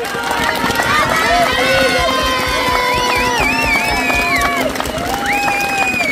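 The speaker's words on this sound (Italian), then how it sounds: "penso che lo vogliate testimoniare con un applauso" A crowd applauds and cheers at a festive gathering in Sappada celebrating a world champion. The sound is a loud, continuous wash of clapping with voices and whistle-like shouts layered throughout.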